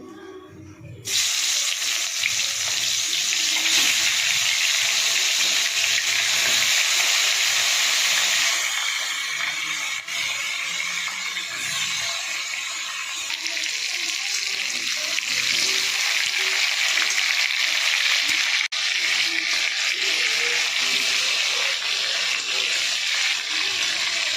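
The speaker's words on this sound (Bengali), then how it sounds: "এবারে আমি কাঁকড়াগুলো দিয়ে দেবো, একটু ভেজে নেবো কাঁকড়াগুলো।" Steady loud sizzling of crabs frying in hot oil, a continuous hiss that runs the whole time with only faint background sounds.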